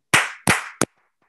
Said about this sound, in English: I am going to do a clap, clap, clap for the video so that it's easier to edit